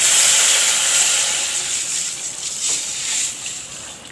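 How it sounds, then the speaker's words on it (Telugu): Rasam poured into a hot tempering sizzles with a loud, bright, steady hiss that is strongest at the start and eases a little before swelling briefly again. "ఇప్పుడు ఇందాక సిద్ధం చేసి పెట్టుకున్న రసం పోసుకుందాం దాంట్లో"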